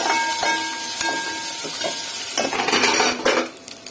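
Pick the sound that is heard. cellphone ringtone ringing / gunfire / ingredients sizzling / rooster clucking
ingredients sizzling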